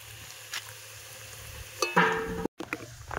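Potatoes frying and being stirred in oil in a wok, a soft steady sizzle with scraping stir noises swelling near the end, heard alone with a brief dropout.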